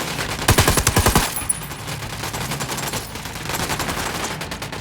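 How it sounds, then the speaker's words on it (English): A rapid, loud burst of automatic gunfire rattles out in Ghost Recon Wildlands, followed by scattered, quieter shots and a lingering rumble of combat. "I'm opening fire"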